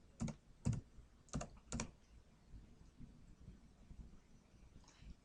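Keys clack on a computer keyboard while an addendum is typed: a few distinct quick strokes in two short bursts early on, then quiet, soft ticking, close and faint.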